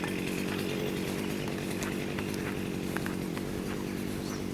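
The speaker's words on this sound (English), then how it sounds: "I'll continue on with the whipper snipping" A whipper snipper trims grass around orchard trees, its small engine buzzing steadily and continuously at close range with faint ticks of cut debris.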